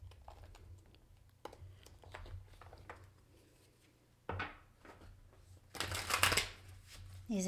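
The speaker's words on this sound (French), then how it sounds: "Je vais prendre une carte pour ses intentions." Tarot cards are shuffled for a card reading, with soft riffling and tapping under quiet French speech, building to a louder, dense flurry of shuffling near the end.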